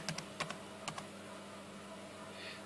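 Keys clicking on a tablet's keyboard case, a few quick taps in two short bursts early on, close and fairly quiet, then a low steady hum with no talking.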